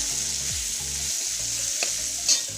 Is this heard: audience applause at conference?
no